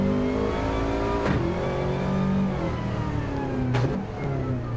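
A Group 4 race car in Gran Turismo 7 pulls out of the pits in a wet Red Bull Ring race. The engine drones loudly and steadily with a couple of upshifts, and no one speaks.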